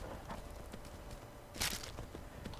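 Faint hoofbeats of a horse in The Elder Scrolls V: Skyrim clop along at a slow walk, a few soft thuds with one brighter scrape, quiet and a little distant.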